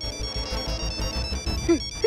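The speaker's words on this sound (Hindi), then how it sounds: "अच्छा हुआ कि आपका फोन आ गया" A phone rings with a repeating electronic ringtone melody, steady and fairly loud, over a rhythmic low background in a Hindi TV drama scene.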